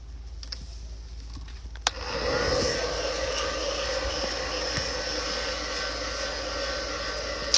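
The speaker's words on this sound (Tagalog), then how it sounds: "Guys, mag-blower muna ako." A hair dryer switches on with a sharp click and then blows in a steady, loud, broad rushing whir that runs without a break to the end, with no talking over it.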